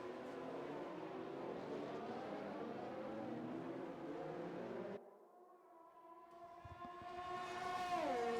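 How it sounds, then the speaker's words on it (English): Race cars in a racing video game sweeping through the 200R corner at the Japan GP, a layered, droning engine whine from several cars that cuts out abruptly, then returns as a single rising engine note shifting pitch. "Lovely as the cars swoop round the 200R."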